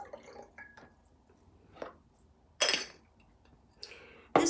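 Charged moon water splashing through a funnel into a jar, heard as a few short, close liquid bursts and drips spaced apart, with a louder pour near the end and quiet gaps between.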